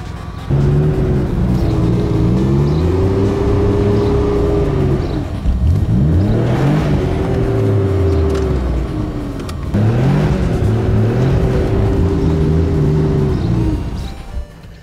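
A car stuck in muddy backyard ground revs hard in three long loud bursts, the engine pitch climbing and falling as the wheels spin in the mud with no progress, brief dips between pushes.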